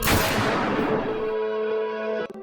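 A single loud gunshot in a film scene cracks sharply up close, then a harsh ringing tail fades over about two seconds before cutting off abruptly.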